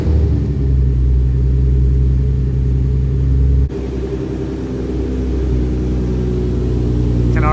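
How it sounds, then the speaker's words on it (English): Nissan 370Z fitted with a Tomei exhaust and ISR long tube headers driving, a loud, deep engine rumble droning steadily from inside the car with a brief shift in tone partway through. "Can already tell the Tomei sounds different. Definitely has that Tomei rasp again"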